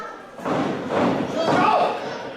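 A wrestler lands a dropkick during a professional wrestling match with a dull, heavy thud, close and loud, amid voices and arena noise.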